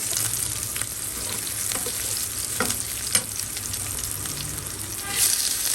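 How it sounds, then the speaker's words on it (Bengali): Onion, garlic and green chili frying in hot oil, a steady close sizzle with occasional scrape-and-stir clatters as a spoon moves through the pan, no voices. "পেঁয়াজ রসুন কাঁচামরিচ দিয়ে দিলাম একটু নেড়ে চেড়ে"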